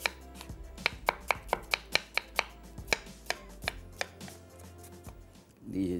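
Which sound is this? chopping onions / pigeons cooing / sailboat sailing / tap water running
chopping onions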